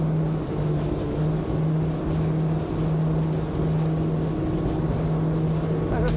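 A Schaefer V33 motorboat runs at high speed past 43 knots on a sea trial, a loud, continuous engine drone with steady low hum and rushing wind and water noise, constant throughout.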